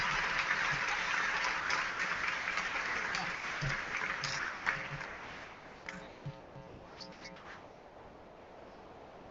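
A large crowd applauds honors graduates at the 2014 Utica College undergraduate commencement. The broad, rain-like patter is sustained at first, then thins out and fades to a few scattered claps near the end.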